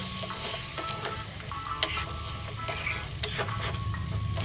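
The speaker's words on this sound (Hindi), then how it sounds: "हाई फ्लेम पे इसे हमें मसालों में भी भून लेना है ताकि इसका फ्लेवर बिल्कुल अच्छा आए" Mutton frying in masala paste in a pan over a high flame for aloo gosht, a constant dense sizzle with occasional light clinks and scrapes as it is stirred.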